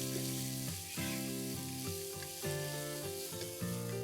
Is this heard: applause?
no